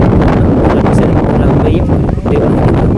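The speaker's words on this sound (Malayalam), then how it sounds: "ഇവിടെ അതിഭയങ്കരമായ കാറ്റ്. ക്യാമറ പോലും നമുക്ക് പിടിക്കാൻ പറ്റില്ല" Strong wind roars across the microphone on the Ramakkalmedu hilltop, a loud, continuous buffeting rumble filling the whole stretch with no let-up.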